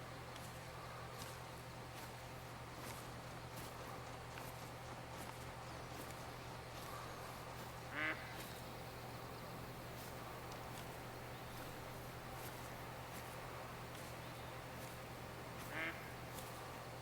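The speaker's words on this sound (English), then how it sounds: "That's a duck." A duck quacks in the hunting game The Hunter: Call of the Wild, two short distant calls spaced several seconds apart over a quiet, steady outdoor ambience.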